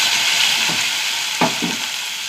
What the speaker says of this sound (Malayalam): ഉള്ളി മുളകും ചതച്ചതാണ് കേട്ടോ.